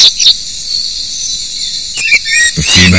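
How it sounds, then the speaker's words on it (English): Male bush cricket's courtship call, a loud continuous high-pitched buzzing trill with a few sharper chirps, heard close with no talking. "The bush cricket uses ultrasound for courtship."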